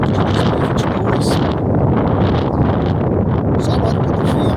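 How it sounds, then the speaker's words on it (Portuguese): Strong wind gusting outdoors, a dense continuous rumble buffeting the microphone with airy rushing hiss and slight swells in force, loud and close throughout. "Só o barulho do vento."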